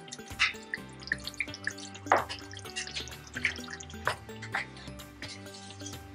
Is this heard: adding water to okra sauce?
yes